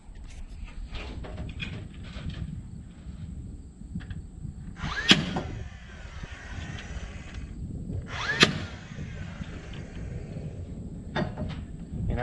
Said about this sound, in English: I just use this DeWalt narrow crown stapler.